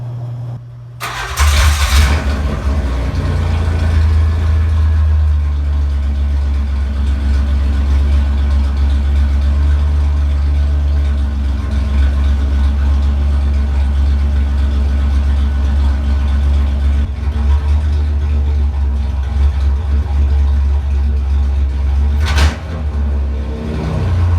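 A 1995 Camaro with a 3.4L V6, running without a muffler, cranks and starts, then holds a loud, steady, deep idle up close for about twenty seconds, with a brief click near the end.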